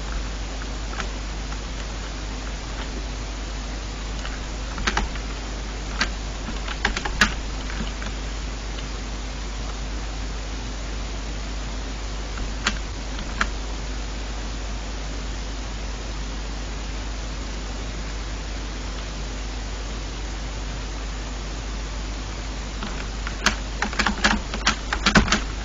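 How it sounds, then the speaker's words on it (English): Keys on a computer keyboard are struck in scattered bursts over steady background hiss, with loose clusters of clicks near the start, a few in the middle and a denser flurry at the end. No voices. "I've been mashing my keyboard, can you hear me?"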